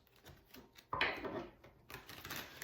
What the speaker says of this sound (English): Get a good shuffle in for all of these.